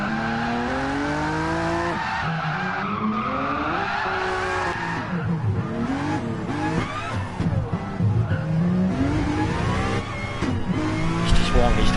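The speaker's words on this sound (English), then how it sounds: "He's just warming his tyres up." A race car at Monza warms its tyres, with engine revving and tyre squeal and skidding that rise and fall over several seconds, while a voice talks over it.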